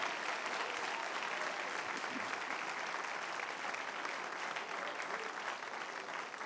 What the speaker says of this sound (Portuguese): se você vai aplaudir, você vai aplaudir forte